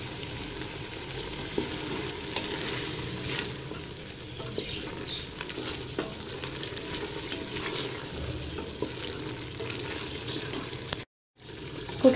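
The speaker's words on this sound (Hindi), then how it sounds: "कुकिंग ऑयल ऐड करने के बाद इसे अच्छे से भून लूँगी मैं।" Mixed vegetables sauté in cooking oil in a pan, giving a soft, continuous sizzle with faint stirring scrapes, fairly quiet and close, and a brief pause near the end.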